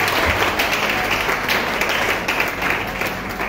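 A church congregation applauds loudly and steadily in dense, continuous clapping that fills the room without a break from start to finish.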